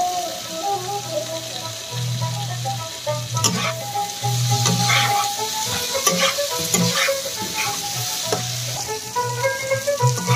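Chunks of mutton fat are stirred into cooked spiced masala, giving a close, continuous frying sizzle punctuated by scraping stirs and sputtering pops.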